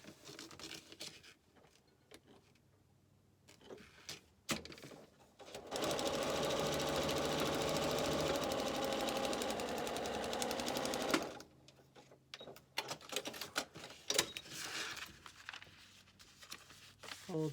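A sewing machine runs in one steady, continuous burst of rapid stitching through paper piecing, fairly close and clear, framed by quieter handling noises and shuffling before and after.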